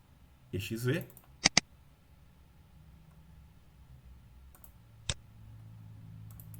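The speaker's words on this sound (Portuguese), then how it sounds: "Para executá-lo, é só clicar duas vezes no SOSIM-EXE." Mouse double-click on a computer, two quick sharp clicks close together, then a single click a few seconds later, near and crisp over faint room hiss, with a brief voice at the start.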